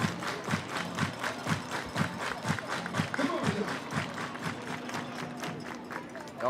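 Rhythmic unison hand clapping from a baseball crowd at a summer-league playoff game, regular beats about twice per second with some crowd murmur and talk underneath.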